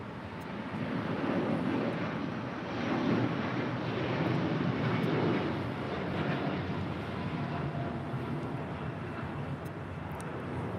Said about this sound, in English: This is El Al, Flight 6 Heavy departing to Tel Aviv, Israel on a 787-9 Dreamliner